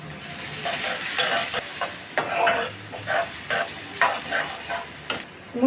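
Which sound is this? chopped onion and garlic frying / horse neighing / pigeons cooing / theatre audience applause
chopped onion and garlic frying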